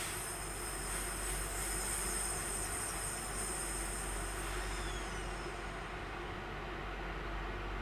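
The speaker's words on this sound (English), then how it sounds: "it's time to bring the train to a stop" A train braking to a stop in Train Sim World 5, a continuous rolling rumble with a high steady squeal of brakes and wheels that fades over several seconds as the train slows.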